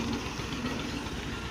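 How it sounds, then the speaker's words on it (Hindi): A tractor engine idles with a steady, close chugging drone in a village setting as it heads off to load bricks, sounding alone without voices. "ट्रैक्टर भी जा रहा है ईंटें लोड करने"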